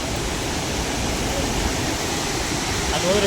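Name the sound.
waterfall roar at Mallalli falls, Sakleshpur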